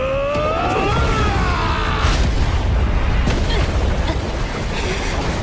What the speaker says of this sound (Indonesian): ledakan dari bom ini bisa menghancurkan setengah gunung ya para penonton